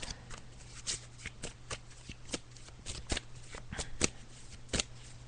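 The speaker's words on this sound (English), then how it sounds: "Oh, okay, Luke, I'm just shuffling the cards" A deck of tarot cards is shuffled by hand, a steady run of crisp riffling flicks repeating about every half second, close and clear, with a low steady hum underneath.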